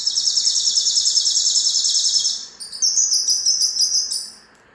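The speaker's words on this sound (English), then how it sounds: "It's a bird." Rapid high bird chirps trill steadily in a clear close series, pause briefly, then resume in a second faster burst before fading out, with no other sounds.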